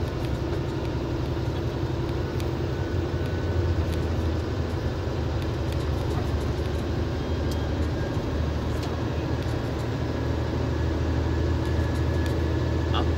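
A vehicle engine pulling up a hill after a gear change, a steady, loud drone holding constant throughout, with faint clicks and knocks over the top.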